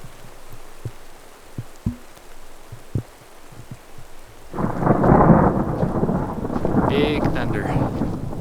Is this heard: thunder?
yes